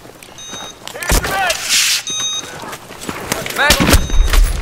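Video game gunfire in a knife battle match, with sharp loud shots cracking at intervals, some in quick clusters, along with game beeps and scattered chirps.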